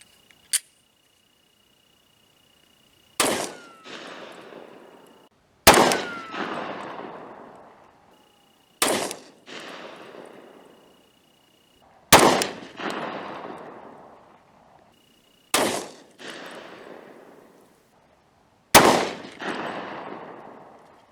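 Six loud, sharp pistol reports from a Glock 30 fired with Underwood Xtreme Penetrator ammunition, spaced a few seconds apart, each followed by a decaying outdoor echo.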